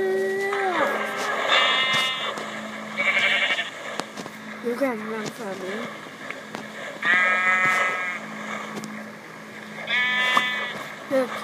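Sheep in the Minecraft PE video game bleat repeatedly at intervals, several distinct wavering calls over steady game background, with a person talking over them.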